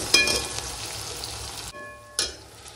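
Spice paste dropped into a kadhai with cooked tomato, a steady close sizzle with a sharp burst at the start, a brief drop, then another hissing surge as it fries.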